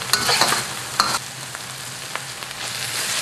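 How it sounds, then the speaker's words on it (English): Lemongrass fries in sambal paste in a pan, with a steady close sizzle broken by several sharp stirring scrapes and clatters, no voices. "Now I'm going to cook this lemongrass for about 2 minutes in this sambal paste"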